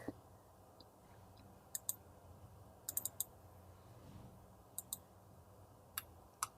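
A computer mouse clicks while working in ArchiCAD, faint sharp clicks arriving singly and in quick pairs and triplets, spread irregularly over a quiet room hum with no talk.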